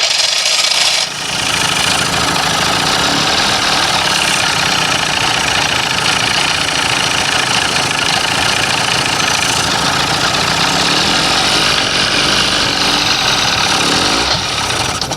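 An old outboard motor idles at low throttle in neutral, a steady, close, rough rattling drone holding constant for the whole stretch after a brief shift at the start, with no talk.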